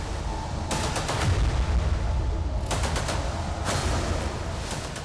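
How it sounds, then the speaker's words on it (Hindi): Loud, rumbling roar of a North Korean missile launch, a continuous heavy low blast with sharp crackling bursts surging at intervals, no voices present. "मिसाइल को लॉन्च होता देख किम जोंग बेहद खुश है"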